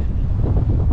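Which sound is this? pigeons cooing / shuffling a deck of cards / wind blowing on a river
wind blowing on a river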